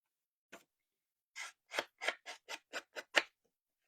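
Scissors snip rapidly along the edges of a paper card to rough them up: one isolated cut, a pause, then a quick run of about eight crisp, close snips.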